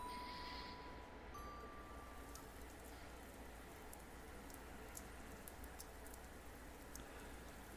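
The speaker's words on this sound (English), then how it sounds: "I wake up to the sound of the rain." Soft, steady rain patters within the visual novel Fate/Stay Night, a faint continuous wash of drops with a brief tone at the start.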